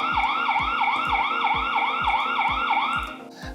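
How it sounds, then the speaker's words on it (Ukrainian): A loud electronic siren from a solar-powered Hikvision 4G security camera, triggered by motion detection, wails in rapid repeating sweeps, about eight cycles, close and continuous before cutting off near the end. "включила свою сирену."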